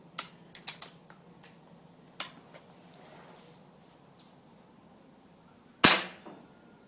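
A PCP air rifle fired on low power gives one sharp, fairly quiet crack near the end, after a scatter of small mechanical clicks and handling taps.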